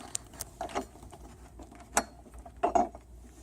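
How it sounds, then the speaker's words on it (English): A screwdriver drives a screw into a plastic Lifetime Model 2155 five-foot picnic table, giving a few separate close creaks and ratcheting clicks spaced irregularly over quiet background. "you have to push hard with the screwdriver"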